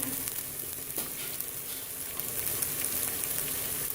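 Spices fry in hot oil in a pan, making a steady, close sizzle with crackles, for a potato and radish pod sabzi.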